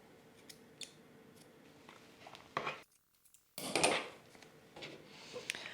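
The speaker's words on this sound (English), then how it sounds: "I'm gonna cut these a little bit." Scissors cutting plant material during plant chores, giving a few crisp snips and rustles at close range, with a louder burst of cutting and handling toward the end, no talk.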